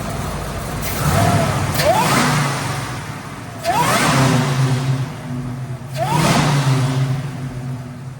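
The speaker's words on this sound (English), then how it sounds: "let's see how much whine this thing actually makes" A car engine fitted with an Edelbrock supercharger revs three times in a row, each rise carrying a climbing whine before dropping back to a low idle, heard close.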